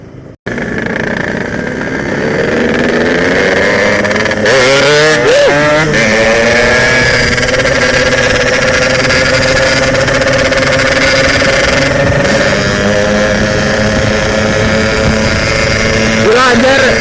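Modified Yamaha RX-King two-stroke motorcycle engine running loud and close in a steady drone, with several sharp throttle revs rising and falling throughout.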